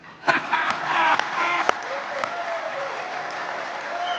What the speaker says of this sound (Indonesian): Tepuk tangannya tidak ikhlas.